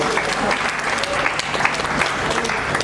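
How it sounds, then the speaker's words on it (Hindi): Loud, dense applause from an audience at an industry chamber gathering, steady clapping throughout with no break and no voices standing out. "जोरदार तालियां इनके लिए।"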